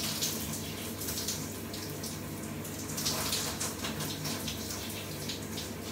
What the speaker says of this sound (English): Just let the water wash through the hair, wash the conditioner off.